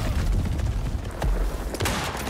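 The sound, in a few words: shotgun firing in video game Icarus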